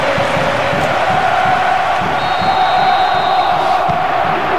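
A football stadium crowd in the video game Bomba Patch roars steadily, a loud, dense, continuous wall of cheering with no talk over it.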